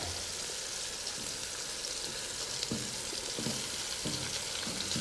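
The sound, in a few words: chopped cauliflower added to frying pulao ingredients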